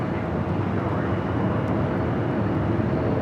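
A SkyWest Delta Connection Embraer E175LR regional jet at LAX gives a steady, distant broadband engine roar over the airport's background noise, with no distinct peaks.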